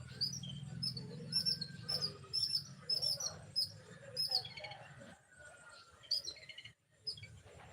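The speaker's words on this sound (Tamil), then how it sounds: "குருவி சத்தம் சூப்பர் அண்ணா." Small birds chirp repeatedly in quick, high tweets, fairly close, over a low background hum that drops away partway through.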